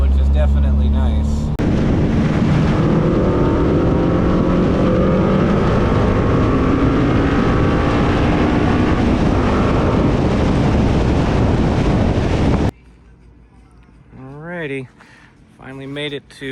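A 300whp Honda Integra accelerates hard, a loud, rising engine roar mixed with heavy wind buffeting that cuts off abruptly, followed by quiet with a person talking.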